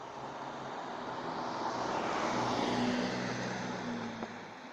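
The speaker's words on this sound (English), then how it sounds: "This is the first car in a while." A single car passing along a quiet residential street lined with shrubs, its broad tire and engine rumble swelling in the middle, then easing away as it goes by.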